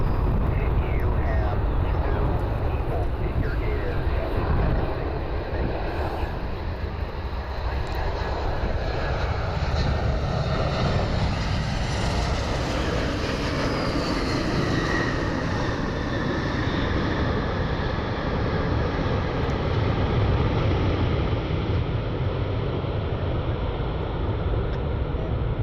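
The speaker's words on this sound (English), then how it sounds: "United Airlines 1544 inbound from Houston." United Airlines passenger jet arriving from Houston at Cleveland Hopkins airport, its engines producing a loud, continuous roar that holds steady throughout.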